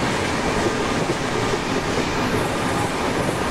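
A Rajdhani Express train in the Train Simulator PC game rushes past with a loud, steady roar of wheels and rails that fills the whole clip, with no voices.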